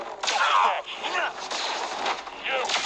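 Stormtrooper blaster fire in the video game Star Wars Jedi Fallen Order: loud, close, overlapping volleys of sharp zapping shots run almost nonstop, with brief dips between bursts.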